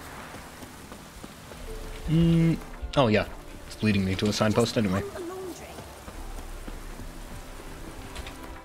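Steady rain patters through a scene in The Witcher 3, a soft constant wash under a voice as he talks over it, with a few louder tonal game sounds breaking in midway.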